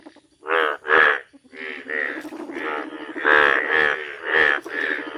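A frog croaks loudly and close by, about a dozen rounded croaks in an uneven run with short gaps, with nothing else heard.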